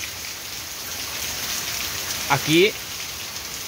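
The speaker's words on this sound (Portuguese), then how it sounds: "uma boa chuva cai nesse momento no solo do sertão nordestino" Steady rain falls on the ground in the northeastern sertão of Ceará at Amaniutuba, making an even, close hiss throughout while someone briefly speaks over it.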